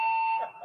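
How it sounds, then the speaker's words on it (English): A building fire alarm sounds during an introductory sports press conference, a loud steady electronic tone that holds and then breaks into pulsing bursts. "the fire alarm goes off while they're doing the introductory press conference"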